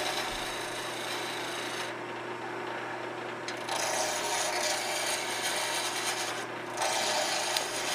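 A skew chisel roughs a spinning wood piece down to round on a lathe, a continuous close scraping hiss over a steady motor hum, with two brief dips where the cut lifts off, and no talking.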